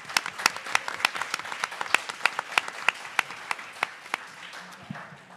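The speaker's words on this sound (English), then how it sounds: "let's give Ernesto a round of applause" An audience at a talk on cultural resistance in social movements applauds Ernesto: a dense, lively patter of many hands with sharp individual claps standing out, holding steady for several seconds before thinning toward the end.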